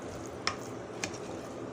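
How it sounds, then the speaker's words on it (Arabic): Minced meat being stirred in a frying pan for a béchamel macaroni bake, a steady soft sizzle with two brief scraping clacks of the spoon, close and alone. "ونقعد نقلب كده لحد ما اللحمه تتعصج معانا"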